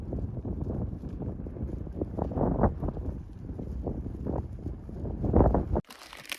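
Gusty wind in the Sahara Desert batters the microphone with a loud, rumbling, uneven roar that rises and falls in surges before cutting off abruptly near the end.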